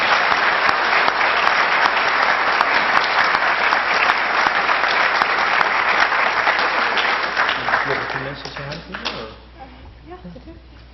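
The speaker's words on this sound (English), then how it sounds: "one last round of applause for our guests" A large audience at a university talk event breaks into a sustained, loud round of applause that stays dense for about eight seconds, then thins out and fades into scattered claps.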